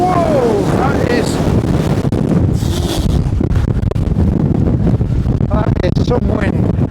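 Strong gusts from Storm Floris buffet the microphone on a hillside walk, a loud continuous roaring rumble throughout, with a voice heard briefly over it.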